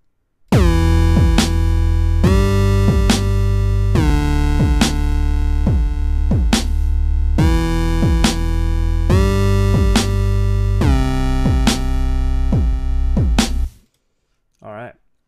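Dubstep bass synth patch built in Reason playing a short sequence of notes, loud, thick and buzzing with repeated wobbling rhythmic pulses, sustained for about thirteen seconds before cutting off, with no talk.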